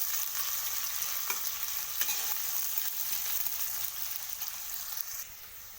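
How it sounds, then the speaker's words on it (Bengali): Chopped onions frying in a pan until reddish, a steady broadband sizzle with occasional stirring scrapes, close and continuous, fading slightly at the end. "পেঁয়াজটাকে একটু লাল লাল করে ভেজে নেব।"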